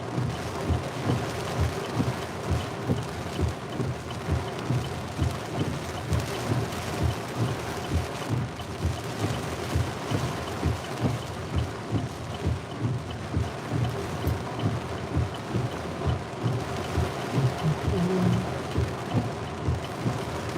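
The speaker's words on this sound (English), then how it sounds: "Rain's really starting to pick up now." Heavy rain pounds steadily during a Pennsylvania thunderstorm, heard from inside a moving vehicle, with low rolling rumbles of thunder beneath a constant dense hiss and no talking.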